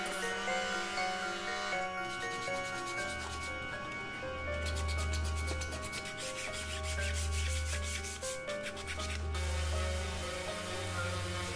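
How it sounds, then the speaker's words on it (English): Rhythmic rubbing strokes from sanding 3D-printed Keyblade replica parts, a repeated scraping back-and-forth pattern, close and fairly quiet, with no talking and a steady background hum. "Let's get sanding."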